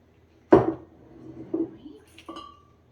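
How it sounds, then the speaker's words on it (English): A Pan Am cocktail is strained into a glass at a home bar: a few separate metallic and glassy clinks and knocks, near and fairly quiet, with gaps of near silence between them. "I'm going to strain it as well into my glass."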